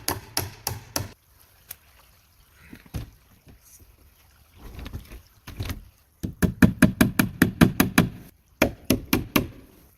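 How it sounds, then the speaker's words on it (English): Hammering nails into the corners of a wooden window frame at an off-grid wilderness cabin: sharp, resonant wooden knocks in quick bursts with pauses, some rapid strings of blows, close and loud, no speech. "He hammers nails into each corner, making the frame stronger"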